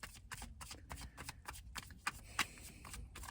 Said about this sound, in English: Why am I shuffling so much?